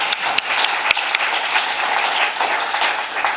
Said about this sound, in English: we could give him a bigger round of applause